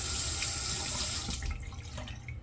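Tap water runs into a sink for a rinse, a close, steady splashing stream that stops partway through, leaving faint drips and handling noise.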